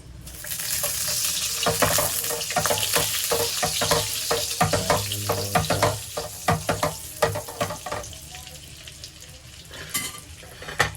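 Oil and butter sizzling in a frying pan, a dense steady hiss with crackles and sharp pops scattered throughout, close and fairly loud, fading slightly near the end.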